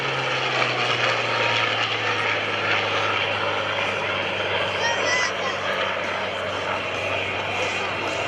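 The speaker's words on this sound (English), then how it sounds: "and the L-39 have joined up and will perform a show pass." A Yak-9 propeller fighter and an L-39 jet join up for a show pass at a military open house airshow, a steady broad engine roar with a low droning hum, continuous and fairly loud throughout, with a faint announcer-like voice under it.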